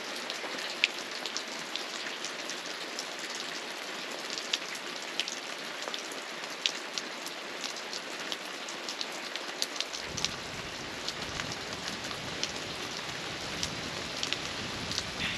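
Steady rain falls in the Ozarks in a continuous broadband patter, with scattered drops tapping nearby surfaces and a heavier low rumble joining partway through.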